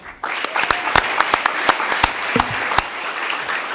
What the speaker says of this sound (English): And again, let's give a great round of applause also to Coach Luis Rodriguez for all his won